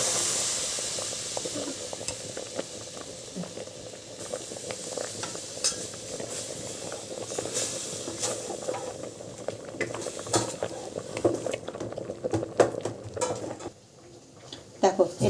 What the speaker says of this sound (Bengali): আমি যে 2 চামচ ময়দা দিয়েছিলাম সেটাই মাখনের মধ্যে ভালো করে ফ্রাই করে নেব।